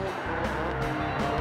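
Drifting race cars with close to 1000 horsepower on a circuit in a tandem drift battle, engines roaring and tires squealing in a loud sustained wash with pulsing revs.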